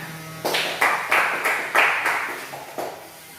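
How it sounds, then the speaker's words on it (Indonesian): A classroom group claps in a steady, unison rhythm, about eight sharp claps spaced evenly with a brief pause near the end, moderately loud with no voices. "Tepuk tangan."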